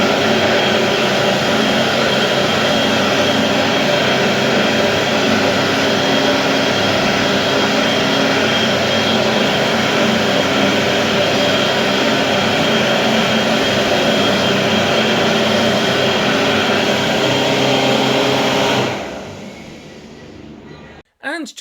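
A Supreme BA101 hand dryer in a men's toilet at an Auckland mini golf course blows with a loud, steady roaring whoosh for about nineteen seconds, then cuts off abruptly.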